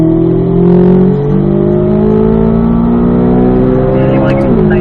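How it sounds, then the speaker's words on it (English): Race car engine on a circuit winding out through the gears up to fourth, loud and close, with steady rising harmonic tones and a shift step near the end; a voice speaks over it. "let the car wind out up to fourth gear"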